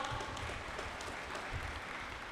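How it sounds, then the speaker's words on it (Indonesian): A live audience claps before a stand-up comedy set. The applause is faint and steady, with some murmuring from the crowd mixed in. "kita kasih tepuk tangan dulu karena ada teman saya yang ingin stand up"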